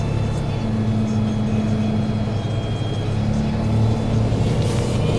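Cars rolling into a snowy parking lot, a low steady engine rumble with a droning tone at close range, with no talk, only vehicle noise throughout.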